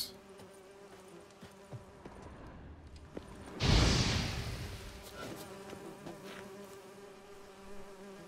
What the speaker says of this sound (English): Those bees